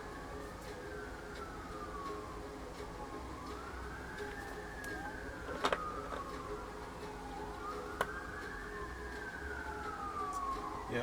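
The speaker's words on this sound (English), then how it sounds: "Siren would shut up." Emergency siren wailing outside near Vancouver airport, repeated rising and falling sweeps sounding distant and steady through a room with faint background hum.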